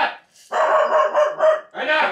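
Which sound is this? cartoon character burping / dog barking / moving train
dog barking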